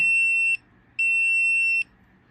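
A gemstone tester held against a small ring gives two sustained electronic beeps, each about half a second to nearly a second long, loud and clear with a short pause between.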